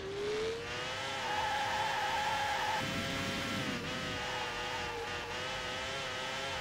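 Race car in the F1 World Grand Prix Dreamcast video game on hard tyres, engine whining loudly and steadily as its pitch climbs and shifts, with a brief skidding hiss partway through; no talk.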